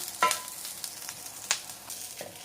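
Pirachappam flatbread fries in a little oil on a pan, giving a quiet, steady sizzle. Three sharper crackles or spatters stand out from it.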